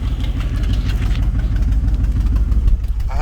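A 1968 Chevrolet El Camino, an original AC car, idles with its exhaust running: a loud, steady low engine rumble with an even pulsing beat and no talking.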